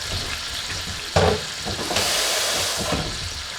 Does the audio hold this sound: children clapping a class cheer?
no